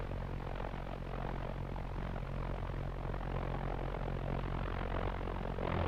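A V1 flying bomb's pulse-jet engine runs on the launch ramp before firing, a loud continuous throbbing roar with a steady low drone that holds through and swells slightly at the end.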